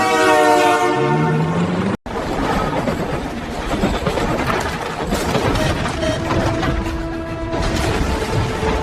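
An AI-generated Amtrak Surfliner passenger train rolls past with a loud, sustained multi-tone horn blast, followed by rumbling wheels and clattering cars close by, with a brief dropout early on.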